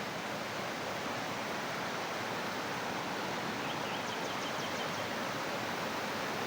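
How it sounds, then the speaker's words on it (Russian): A mountain river rushes steadily with a dense, even roar of flowing water, constant and fairly distant, with no other sounds standing out. "Горная речка"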